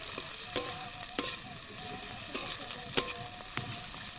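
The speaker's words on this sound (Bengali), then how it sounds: "পেঁয়াজটা একটু জড়িয়ে আছে, তার জন্য আমি খুন্তি দিয়ে ভালো করে একটু চেপে চেপে ছাড়িয়ে নিচ্ছি" Clumped onions frying in a pan for a chicken curry with yogurt, pressed and broken apart with a metal spatula: a steady sizzle punctuated by several sharp scrapes and taps.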